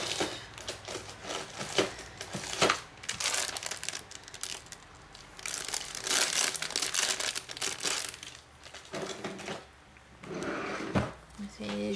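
Double-sided tape crinkles, peels and tears at close range while a scrapbook booklet is being assembled, in irregular bursts with a person talking throughout.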